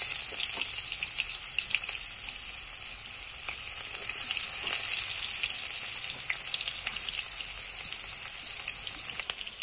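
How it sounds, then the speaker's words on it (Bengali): Onions frying in a hot kadai (wok), sizzling steadily and closely for the whole stretch with a bright hissing crackle and occasional louder pops as the pieces hit the oil. "এবার কড়াইতে দিয়ে দেবো পেঁয়াজ"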